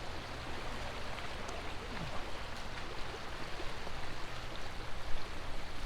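River flowing through a forest, a steady broadband rush of moving water heard alone and moderately close, with small splashes rising and falling over about six seconds.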